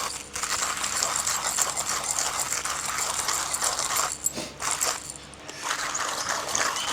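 Light roast coffee beans for filter coffee ground by hand in a Timemore C3S manual grinder, a steady dense crunching and rattling burr noise that runs continuously, close up, with a short pause near the end.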